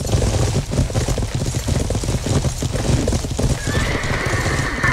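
A horse gallops with dense, rapid hoofbeats and then neighs loudly near the end. The fighting takes place in the medieval video game Life is Feudal, and the galloping stays close and constant with no talk over it.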